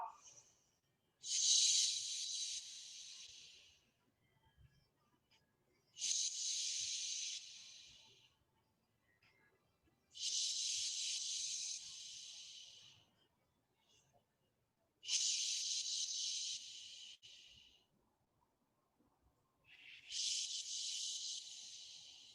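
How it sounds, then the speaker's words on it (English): Forceful yoga power breaths blown out through the mouth during a beginner's class, five long steamy hissing exhales spaced about every four to five seconds, close and clear with quiet gaps between them. "let's use that power breath and steam it out"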